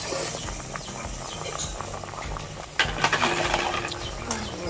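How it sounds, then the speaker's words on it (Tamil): A pot of dal bubbles and patters continuously at a boil, close by, with a louder burst of bubbling partway through and faint kitchen noises behind. "கொதிக்கிறது பார்த்தீங்களா"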